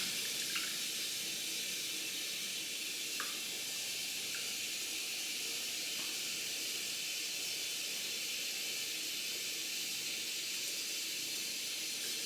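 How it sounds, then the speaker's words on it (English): Hot water pours steadily into a rug cleaning solution, making a constant hissing rush that carries on without pause. "now I just add my hot water"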